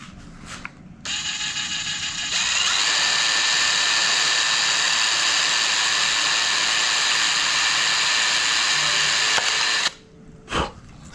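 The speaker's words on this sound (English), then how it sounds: "I'm going to drill a hole here and feed the wire out this way just to get a cleaner look" A drill bores a hole through a Kawasaki Ninja ZX10R mirror fitted to a ZX6R, a close, loud, sustained high-pitched whine that spins up, holds steady for several seconds, then stops abruptly, followed by a brief knock.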